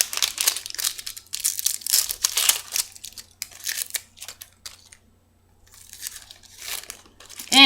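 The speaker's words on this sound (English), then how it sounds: "peel the skin off" Papery onion skin being peeled off by hand crackles and tears in close, dry bursts of crinkling, with a brief quiet gap before the rustling resumes.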